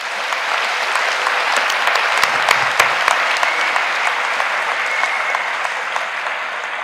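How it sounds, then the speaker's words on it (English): High school graduation crowd applauding the senior class, loud continuous clapping from a large audience filling the hall, with a few sharper claps standing out and some low knocks midway. "Can we get a round of applause for this heavily involved class?"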